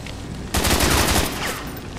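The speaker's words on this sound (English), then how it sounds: "let's shoot the thing" A sudden burst of rapid gunfire in XCOM 2, a dense rattling volley of shots lasting about a second before trailing off, loud and up close.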